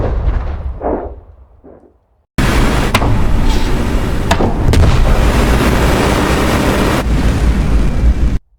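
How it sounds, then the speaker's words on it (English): A library explosion sound effect used to kick off a spaceship hyperdrive bursts in abruptly after a short quiet lead-in, a loud, sustained broadband boom with rumbling low end that holds for several seconds before cutting off. "Let's just pop off an explosion to get our hyperdrive going here."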